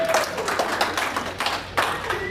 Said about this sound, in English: That's an applause for my, give it up for my dad, everybody, for coming out.